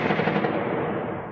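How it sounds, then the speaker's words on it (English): Gunfire reverberating through the city of Sumy, a dense, continuous roar of rapid reports blurring into a sustained rumble that fades slightly toward the end. "what sounds like gunfire reverberates around the city of Sumy in the north"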